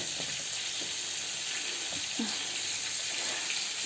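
Soft, steady sizzling of fish frying in a pan, with faint clinks and kitchen noises scattered through.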